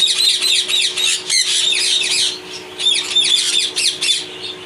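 Ringneck parrots, including small white and yellow ones, squawk and screech in a breeding aviary, a dense overlapping chorus of loud harsh calls with brief lulls.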